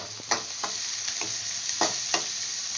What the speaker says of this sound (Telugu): ఇవి బాగా వేయించుకోవాలి పచ్చి వాసన పోయే వరకు